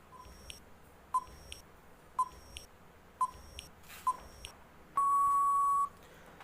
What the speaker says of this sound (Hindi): अब हम टाइमर लगा देते हैं